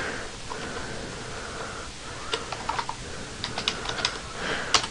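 Keystrokes on a computer keyboard entering text into a search bar, a quiet run of scattered clicks that grows busier toward the end, close by with no voices.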